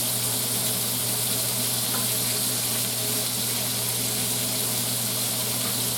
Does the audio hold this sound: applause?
no